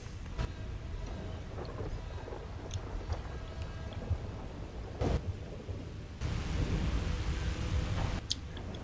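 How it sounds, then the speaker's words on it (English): A thunderstorm in the video game GTA Online: a steady wash of heavy rain and wind, with a sharp thunder crack midway and a louder roll of thunder building toward the end. "Pretty spectacular storms, though."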